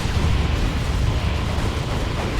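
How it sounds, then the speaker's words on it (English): Blight grenade explosions in Warhammer 40,000: Dawn of War 2 battle, a dense rumbling roar of blasts and debris blending into one continuous, loud boom with no clear separation between detonations. "Oh, pestilent grenades going in"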